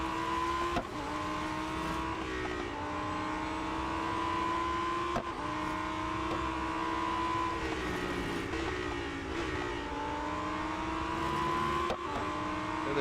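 A fully upgraded Lamborghini Huracan STO races in the mobile game Real Racing 3. Its engine note climbs steadily through gears with sharp shift breaks, loud and sustained, overtaking other cars over a constant droning road roar.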